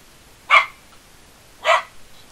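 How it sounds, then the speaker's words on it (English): A dog barks twice from close by, the two sharp single barks about a second apart, with quiet in between. "Don't bark right next to my ear."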